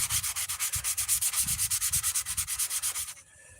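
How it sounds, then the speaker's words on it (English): Rhythmic back-and-forth sanding strokes scrubbing thick paint off a Scout helmet, loud and close, about twenty quick even passes before stopping abruptly. "there's a lot to sand off"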